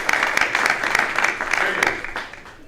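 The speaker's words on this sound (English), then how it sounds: "So welcome, a nice warm round of applause" A conference audience breaks into warm applause welcoming a speaker, a loud, dense burst of clapping that tapers off over a couple of seconds.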